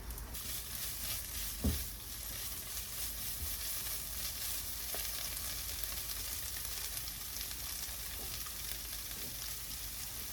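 Namul stir-fried in perilla oil in a pan gives an even, quiet crackling sizzle throughout, broken by an occasional light tap of a utensil, with no voices.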